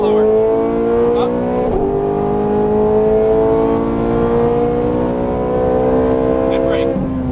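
A Ferrari 430 Scuderia engine pulls hard on a racetrack, heard from inside as a loud, continuous rising roar with strong harmonic tone, dipping briefly near a gear change before climbing again.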